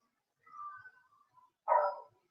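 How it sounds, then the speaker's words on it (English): A couple of dogs bark in the distance, a drawn-out bark trailing off and then one sharper, louder bark, with quiet between. "Hear all those dogs barking?"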